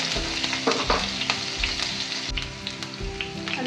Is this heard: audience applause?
no